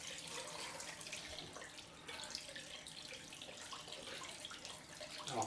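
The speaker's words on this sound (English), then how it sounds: "Let's just give this a quick rinse." A chrome leaf razor rinsed under a running tap after a head shave, steady splashing water throughout, close and fairly quiet with no talking.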